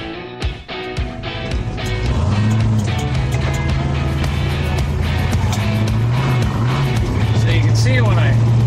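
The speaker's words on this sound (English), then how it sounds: "And now I'm going to take it for a test drive." A hot rod on a test drive, its engine rising from a short pause into a loud, sustained drone with shifting pitch as the throttle is pressed; a voice talks over it.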